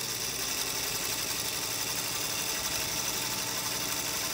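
A Singer Featherweight sewing machine stitches steadily up close, its even, rapid mechanical hum and needle patter continuous throughout, with no voice over it.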